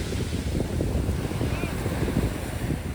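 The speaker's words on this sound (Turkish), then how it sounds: "Birazcık dalgalı. Rüzgar var" Steady wind rushing over the microphone with the broad wash of Mediterranean sea waves breaking nearby on the coast at Antalya, loud and continuous throughout.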